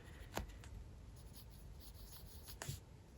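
Pencil strokes scratch across a sketchbook page for drag queen drawings, a soft, close, continuous rubbing with two slightly sharper strokes, quiet and alone.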